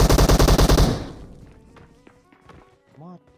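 Rapid burst of automatic gunfire in PUBG Mobile, loud and close for about a second, then fading into scattered distant shots, with a shout near the end.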